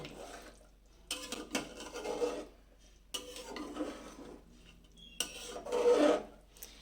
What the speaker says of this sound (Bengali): গরম মশলাটা একটু ভালো করে একটু নাড়তে হবে।